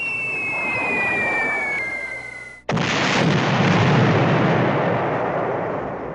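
A heavy explosion from bombs dropped by a B-17 Flying Fortress group: a whistling descending tone, then a sudden loud, sustained roaring blast with rumbling debris that fades slowly.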